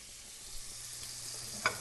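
Onions, jalapeños and celery sizzle in a soup pot for beer cheese soup, a steady close hiss with one brief clink near the end.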